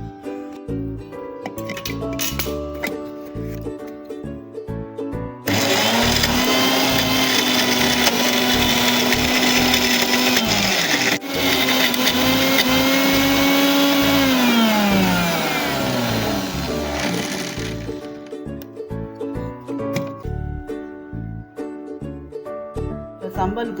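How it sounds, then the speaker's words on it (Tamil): A mixer grinder whirs loudly and steadily for about eighteen seconds, grinding onion, ginger, garlic and tamarind into sambal, its pitch dipping slightly as the load shifts, with quieter kitchen sounds before and after. "சம்பலுக்கு தேவையானதெல்லாம் மிக்சியில் போட்டு அரைச்சி கரெக்டான கன்சிஸ்டன்சிக்கு வந்துடுச்சு"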